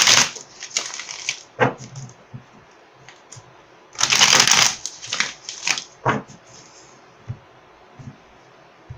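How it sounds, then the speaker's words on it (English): A deck of tarot cards being shuffled by hand in bursts of riffling and slapping, close and crisp, with quiet pauses between the shuffles. "I am totally shuffling the wrong deck."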